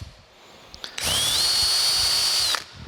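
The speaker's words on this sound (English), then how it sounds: "So I'm just going to take a drill bit back to the original size and just try to clean that hole up." Power drill spinning a bit through a hole in metal while cleaning out a part on an old metal planer's clapper box; a short click, then a steady high whine for about a second and a half, close and loud.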